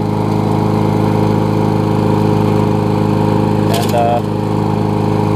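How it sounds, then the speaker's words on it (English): Up close, a Bolens lawn mower engine idles loudly and steadily with a throbbing, even drone throughout; a brief faint clink sounds near the end. "Thing's running great though. Let it run for a little bit."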